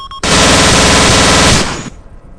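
Airsoft guns fire in one sustained, very loud rapid burst during an ambush, lasting about a second and a half before cutting off abruptly, with no voices.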